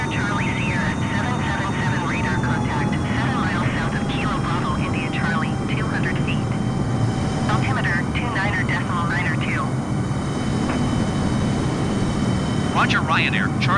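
A Ryanair Boeing 737 MAX lands at Miami airport with a loud, continuous jet engine roar and a faint high whine, while voices talk over it.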